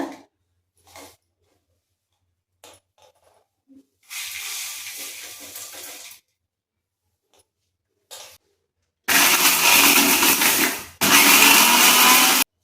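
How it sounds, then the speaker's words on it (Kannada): A mixer grinder jar whirs loudly in bursts, grinding dried turmeric root and spices for a hill amla pickle, with short quiet gaps and brief clatter between runs. "ಗ್ರೈಂಡ್ ಮಾಡ್ಕೊತೀನಿ ಮಿಕ್ಸಿ ಜಾರ್ ಹಾಕ್ತಾ ಇದ್ದೀನಿ"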